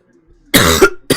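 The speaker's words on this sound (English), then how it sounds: "Sorry for the coughing." A man coughs loudly at close range, one harsh burst of coughs followed by a short second cough after a brief pause, with near silence before it.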